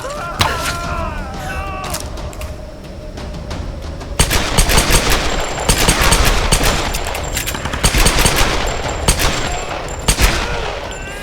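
Gunfire in the Tomb Raider video game, rapid repeated shots in dense bursts, loud and close, becoming heavier midway, with game ambience and occasional voice underneath.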